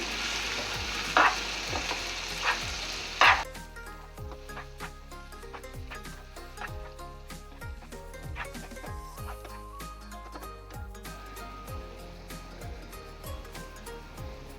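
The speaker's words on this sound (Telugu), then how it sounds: "ఎగ్స్ వేసిన తర్వాత బాగా మిక్స్ చేస్తూ ఉండాలి ఇది ఎగ్ బుజ్జీ కదండి బాగా మిక్స్ చేయాలి" Eggs for dhaba-style egg bhurji sizzle softly in a pan, with a few sharp spatula scrapes early on and then a steady, gentle frying hiss under a faint background melody.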